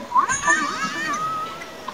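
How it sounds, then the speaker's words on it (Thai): A cat in The Sims 2 video game gives a few short, high, bending meows close up, with brief rises and falls that fade into a softer trailing cry. "แมวแมว"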